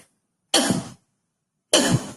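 A voice imitates a child's persistent cough with two separate harsh, loud cough bursts, each about half a second long and spaced by silence.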